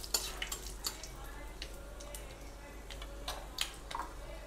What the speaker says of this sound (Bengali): এবার একটা শুকনো লঙ্কা দিয়ে দেবো, আর একটা তেজপাতা দিয়ে দেবো। এগুলো দিয়ে একটু নাড়াচাড়া করে নেব।